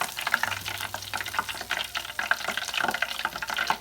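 Tempura shrimp fry in hot oil with a soft, crackling sizzle and scattered bubbling pops, close and fairly quiet, continuous throughout with no voices.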